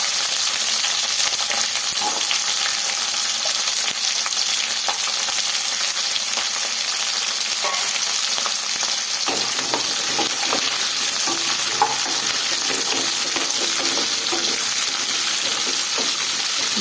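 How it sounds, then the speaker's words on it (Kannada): Vegetables frying in oil for village-style hurulikalu sambar, a loud, steady, broadband sizzle held close throughout, with occasional stirring scrapes and a shift in texture partway through, no speech. "ಆಯಿಲಲ್ಲಿ ಸ್ವಲ್ಪ ಫ್ರೈ ಮಾಡ್ಕೊಳ್ಳೋದ್ರಿಂದ ತುಂಬ ಚೆನ್ನಾಗಿರುತ್ತೆ"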